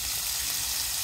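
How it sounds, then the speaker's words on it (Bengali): Tengra fish frying in oil gives a dense, even sizzling hiss, close and steady for a brief moment with no voices. "মাছরে তেলে ভাজা হইতেছে"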